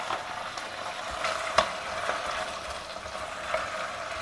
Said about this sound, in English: Add it to the kadai and stir it well.